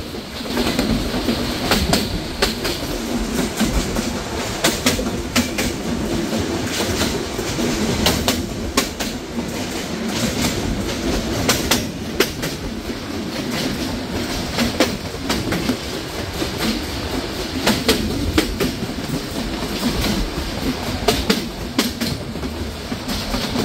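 Silk City Express passenger train running on rails on a winter morning, steady close rumble with rhythmic clickety-clack of wheels throughout, faint birds in the background.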